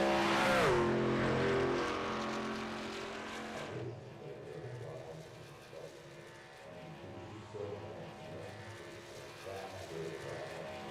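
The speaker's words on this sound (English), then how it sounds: "As he gets his truck up to speed" Racing trucks accelerate on a speedway in a video game, a loud engine roar that fades after a few seconds into a steadier, quieter drone of distant motors.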